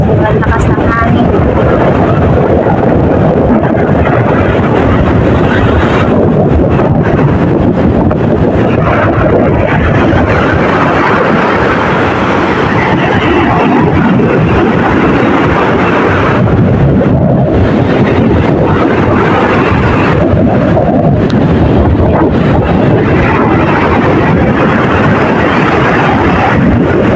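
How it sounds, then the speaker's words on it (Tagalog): Strong, roaring wind blows steadily and loudly, battering the microphone with constant rumbling gusts. "Sobrang lakas ng hangin."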